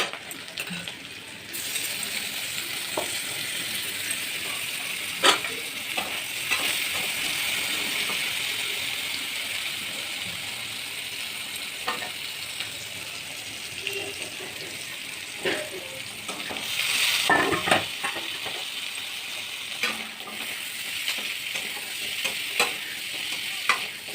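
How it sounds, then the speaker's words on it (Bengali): Onions, crushed garlic and boiled jackfruit seeds sauté in a pan, a soft continuous sizzle with scattered clinks and scrapes of a stirring utensil against the metal, moderately quiet throughout. "আমি পেঁয়াজগুলো একেবারে এর মধ্যে দিয়ে দিয়েছি, দিয়ে একটু ভাজাভাজি লাল লাল হলে এর মধ্যে আমি রসুন থেঁতো করা দিয়ে দেবো"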